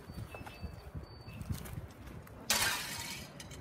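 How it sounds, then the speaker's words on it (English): Window glass shatters in a burning building during a live fire training burn, one sudden bright crash after a stretch of low rumbling and crackling, then lingering tinkling as fragments fall, fairly distant. "All right, that was glass breaking, so we lost a window up there"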